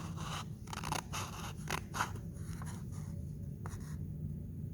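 Scissors snip through paper strips for a paper weaving craft, a run of short crisp cuts and rustles at close range over a steady low room noise, with no voices.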